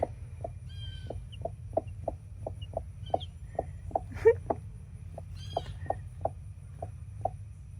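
Backyard mother hen clucking with her chicks, a regular run of short, close clucks with a few high peeps from the babies over soft outdoor background noise.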